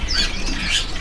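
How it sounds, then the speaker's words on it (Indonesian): A robin in a crowded bird market kiosk gives thin, whistled chirps over a dense, steady wash of background bird chatter and market noise. "Untuk burung robin."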